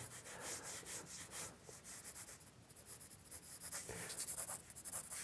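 A pencil sketches an animal drawing on paper with soft, close, repeated scratchy strokes in an uneven rhythm, heard alone and fairly quiet.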